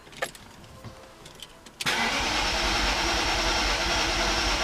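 After some faint clicks and shuffling inside a manual-transmission car, the engine cranks and abruptly catches, settling into a loud, steady idle close by.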